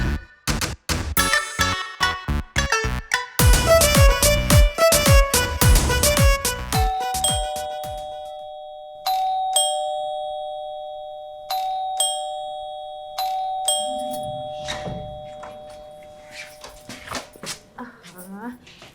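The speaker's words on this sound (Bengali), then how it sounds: "এই এতবার কলিং বেল দেয়, আমার আসতে টাইম লাগে না?" A doorbell chimes repeatedly, loud and ringing, followed by sustained ding-dong tones and then voices talking nearby.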